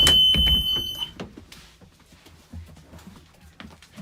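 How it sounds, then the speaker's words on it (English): A school bus emergency door buzzer blares shrilly for about a second as the door opens, then cuts off, followed by quieter knocks and rustling. "You lift the red handle and open the door. Okay. And the buzzers will go off always."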